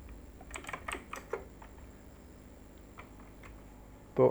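Keys clatter on a computer keyboard while an npm command is typed, a rapid cluster of close clicks followed by sparse, softer taps and a final louder key press, with no voices.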